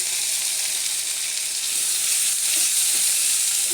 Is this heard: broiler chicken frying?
yes